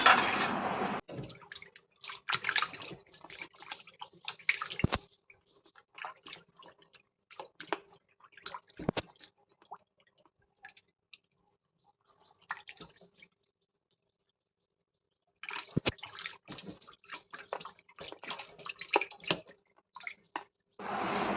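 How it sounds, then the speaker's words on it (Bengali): Tilapia fish are washed by hand in water, with bursts of splashing, dripping and squishing. A long, nearly silent pause splits the bursts before the sloshing picks up again, close and moderately loud. "এবার মাছগুলোকে ধুয়ে নেব ভালো করে"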